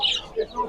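Chicks and chickens at the Sabunchu poultry market, a short burst of clucking and high cheeping with people talking close by.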